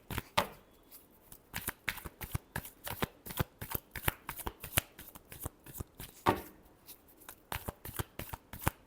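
A deck of tarot cards being shuffled up close, with repeated quick riffling bursts in a steady rhythm and brief pauses between them, fairly soft and with no talk.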